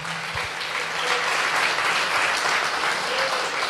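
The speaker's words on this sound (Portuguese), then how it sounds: "Aplauda o nome do Senhor" A church congregation applauding during a sermon, a full, continuous roar of many people clapping close and loud for several seconds, with a few low thumps at the start.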